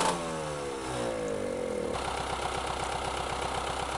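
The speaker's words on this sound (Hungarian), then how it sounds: "Indítsd be a motort." Tractor engine starting in Farming Simulator 19: a rising whir as the starter turns over, then the engine catches into a steady, rapidly pulsing idle, loud and close with no talk over it.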